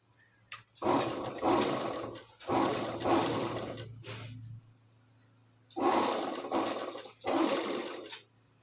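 A sewing machine stitches a salwar in four loud, close bursts of rapid whirring, separated by short quiet pauses and a low hum.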